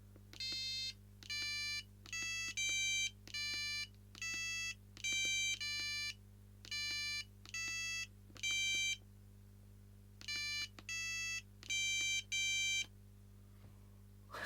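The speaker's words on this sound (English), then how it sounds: "You can compose your own ringtones." A user-composed ringtone plays on a Sony Ericsson T68i mobile phone as a series of bright, beeping monophonic note bursts in short rhythmic phrases, alone over a faint steady hum with a brief pause midway.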